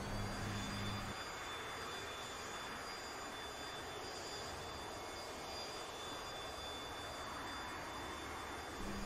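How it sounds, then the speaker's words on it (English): A Saab Viggen jet engine spooling in a Heatblur flight simulator game, a steady broadband roar with a thin high whine, with a brief low tone at the start and end. "Heatblur did an amazing job with the sounds of this product. Just listen to the spool above the engine."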